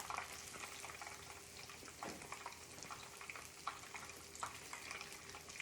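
Coconut shrimp fry in a little oil in a pan with a quiet, steady sizzle and occasional soft pops and crackles. The sound is faint and close, with no voices.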